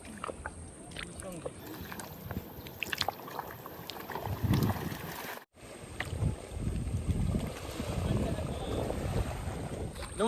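A wooden fishing boat is pushed down a muddy bank into a Sundarbans river for prawn fishing, with scraping, splashing and bumping amid wind gusts on the microphone, while several people talk and call out nearby.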